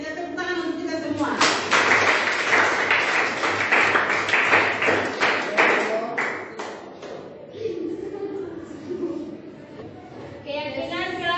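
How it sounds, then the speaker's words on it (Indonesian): A class of students claps together in a burst lasting several seconds, loud and dense at first and then thinning out, with voices chattering around it. "kita tepuk tangan untuk kita semua."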